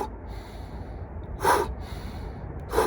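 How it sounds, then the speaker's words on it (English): Two quick, sharp nasal exhales during a breathing exercise, each a short forceful burst of breath standing out from the quiet, spaced about a second apart. "long, slow inhales, quick, sharp exhales, fast"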